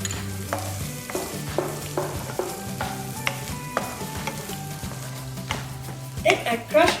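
Chopped onions sautéing with chili flakes in a pan for tomato rice, a steady sizzle with repeated spoon scrapes and stirring, close up, with faint talk in the background.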